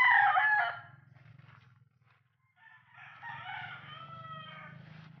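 A rooster crows loudly nearby on a small backyard farm, followed by softer clucking and a second drawn-out crow over a low rumble, with other chickens faint in the background.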